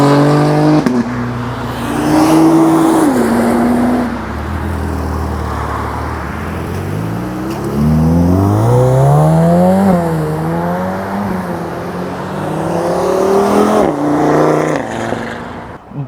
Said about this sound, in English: We got a neat classic Ferrari pulling in, a little bit late for the meet